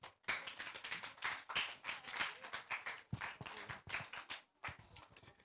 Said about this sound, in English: Clap him as he comes.